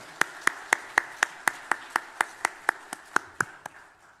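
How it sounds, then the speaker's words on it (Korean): A congregation claps in unison during a Sunday church worship service, about sixteen crisp, evenly spaced claps in a steady rhythm, close and fairly loud with no talking. "우리도 박수로 하나님께 영광 올려드리겠습니다"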